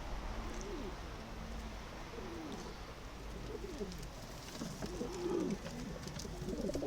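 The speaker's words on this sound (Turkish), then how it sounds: "Uçurduğum kuş budur. Uçuyor dediğim kuş budur." Domestic Adana pigeons coo in soft, repeated rolling calls, several birds close by over a steady background hum, with the cooing growing louder toward the end.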